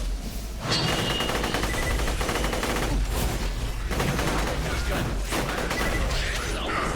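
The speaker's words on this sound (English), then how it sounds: "I'm burst firing now" Dense, continuous gunfire bursts in the video game Borderlands: The Pre-Sequel, loud and sustained for several seconds with a faint voice now and then underneath.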